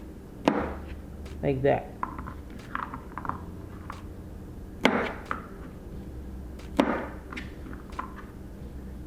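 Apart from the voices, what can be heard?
trimming green beans with a knife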